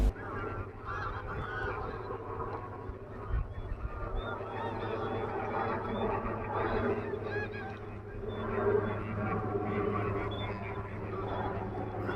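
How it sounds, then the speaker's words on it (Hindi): Flock of migratory geese honking steadily at a Kashmir wetland, many overlapping calls forming a continuous chorus at moderate distance, with no talk. "लगभग 5 लाख प्रवासी पक्षी कश्मीर के वेटलैंड्स में पहुंच चुके हैं।"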